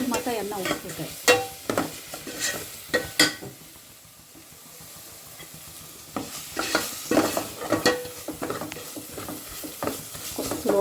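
Sautéing in a medium amount of oil in a pan while preparing a South Indian dinner: spoon-against-pan clatter and stirring scrapes over a soft sizzle, with a quieter pause midway before the busy stirring picks up again, close by.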